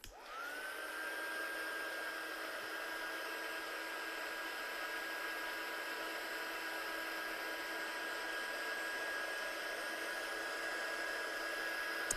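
A heat gun blows steadily to dry watercolour card, a constant even whooshing hiss with a faint high whine that runs unbroken from start to finish.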